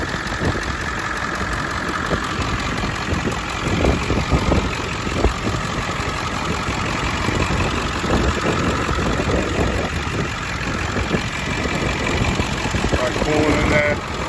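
A 2001 Ford E450 cutaway flatbed with a 7.3 Power Stroke diesel idles with the hood open, a steady, dense clatter running throughout, with a few faint knocks and some background noise.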